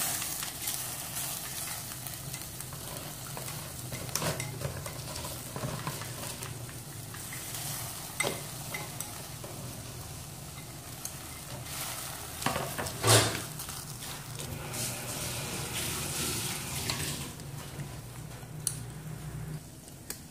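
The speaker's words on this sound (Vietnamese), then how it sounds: "Khi nồi nước sôi nhé thì các bạn sẽ cho mình phần rau cải vào." Mustard greens dropped into a pot of boiling water give a quiet steady bubbling and soft sizzle, with faint stirring clicks and one sharper clatter partway through.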